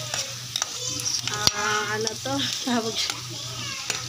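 Chorizo and kikiam sautéing in a pan for guisado sotanghon hiss and sizzle steadily, with the scrape and clack of a stirring utensil, while a person talks over the cooking now and then.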